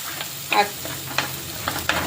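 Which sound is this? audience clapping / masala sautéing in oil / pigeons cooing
masala sautéing in oil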